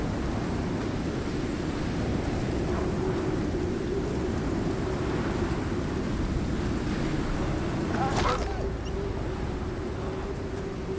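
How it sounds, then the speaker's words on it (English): Storm wind in a video game, a steady loud roaring gale with a deep rumbling undertone and a brief sharp crackle partway through, continuing without any talking. "let the storm die out"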